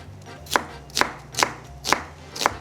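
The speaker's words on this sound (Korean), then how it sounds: "양파 한 개는 아주 살짝 두툼한 슬라이스로 썰어서 준비해 주세요." A knife cuts an onion into slightly thick slices on a cutting board, giving five crisp, evenly spaced chops about half a second apart, close and clear over quiet background hum.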